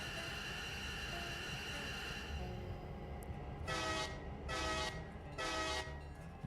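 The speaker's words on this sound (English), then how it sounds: "We had some runaway diesels, for lack of a better way of putting it." Runaway diesel locomotives coasting in the game Railroader, a steady rumbling rail drone followed by three long, loud horn blasts in a row, with no talking.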